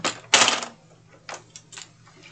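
Paper trimmer slicing a sheet for a mug box, one sharp close cutting stroke followed by a few lighter clicks and slides of the blade.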